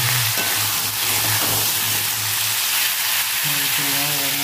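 Cut potato, eggplant and pumpkin sizzle in a pan for a Bengali vegetarian Malabar spinach dish, a steady dense hiss with a low hum underneath and no voices.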